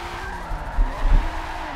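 A race car in the video game Forza 7 skids with a sustained tire squeal over a steady engine hum, a brief continuous screech with slight swells in loudness.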